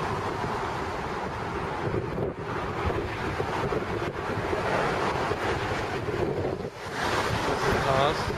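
Strong wind buffeting the microphone near a bridge in New York, a continuous roaring rumble with gusty surges, loud and close, drowning out other sounds.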